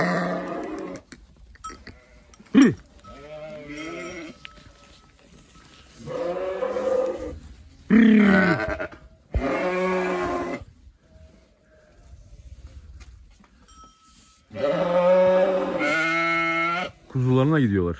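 Several sheep bleat loudly and repeatedly at close range, long wavering calls separated by short quiet gaps.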